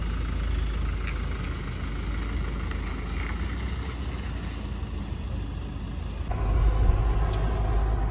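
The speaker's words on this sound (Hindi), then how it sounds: "स्टार्ट करते गाड़ी निकलते हैं यहाँ से" Car engine running steadily on an Indian highway near Narnaul, with a rise in engine and road noise near the end as it pulls away; no talk.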